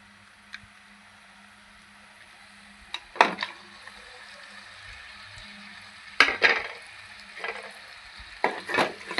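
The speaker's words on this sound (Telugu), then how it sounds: "మనం మాంసం అయితే వేసేసుకుందాం." Meat dropped into hot spiced oil in a pan while cooking a meat curry, with soft background sizzle and several bursts of louder frying and stirring.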